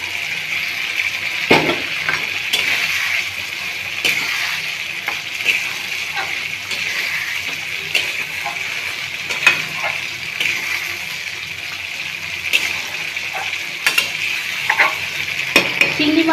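Prawns for a Bengali chingri malaikari fry in a hot pan, giving a loud, steady sizzle throughout, broken by occasional stirring scrapes and light clinks; nobody speaks.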